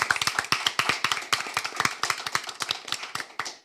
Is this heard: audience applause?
yes